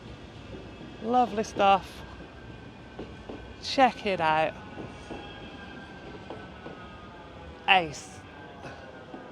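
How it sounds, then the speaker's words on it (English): Tram passing along Whitworth Street in Manchester, a steady rolling rumble of wheels on rail under city ambience, with someone speaking briefly over it now and then. "And perfect timing, here comes a tram."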